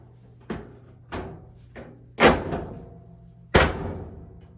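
A Samsung dryer door is pushed shut several times, each close landing as a sharp thud with a short rattle, the last two loudest, over a low steady hum.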